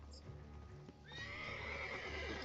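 Roach, the horse in the video game Witcher 3, lets out a loud, drawn-out whinny that rises partway through, preceded by a few hoof sounds.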